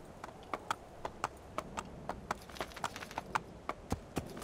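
Steady, rhythmic hoofbeats of a horse in the video game Assassin's Creed 2 clip-clop at a trotting pace, crisp and fairly close, over a soft background hiss with no talking.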